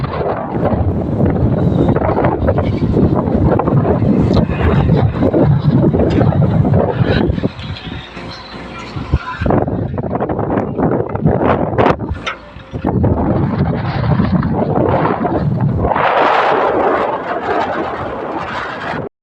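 A machine loads salt into a Sonalika tractor outdoors: a loud, continuous roaring engine rumble with gusts of wind buffeting the microphone, easing briefly midway before returning at full strength.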